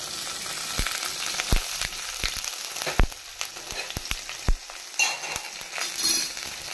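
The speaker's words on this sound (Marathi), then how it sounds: "मागीर तातूंत हांव घालता करपील, कढीपत्ता।" Asafoetida and curry leaves crackle and sizzle in hot oil while making Goan ghotanche saasav, with a steady frying hiss broken by sharp pops and spits at irregular intervals, close and fairly loud with no talking.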